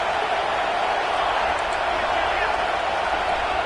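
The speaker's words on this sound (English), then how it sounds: "Here comes second down, and this crowd is turning it up a notch." A college football stadium crowd at a Miami versus Florida game roars steadily and densely throughout, a loud, continuous wash of cheering with no breaks.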